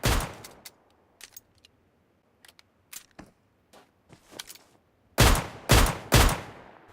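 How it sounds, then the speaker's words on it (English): R45 pistol gunfire in PUBG on the Miramar map, a few scattered light shots followed by three loud, close, evenly spaced pistol bangs near the end. "we'll see if we can pick them off with the pistol"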